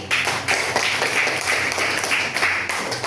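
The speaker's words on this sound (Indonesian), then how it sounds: "Oke, tepuk tangan lagi." A school class claps in a sustained burst of applause, fairly faint and roomy, with a few louder patches.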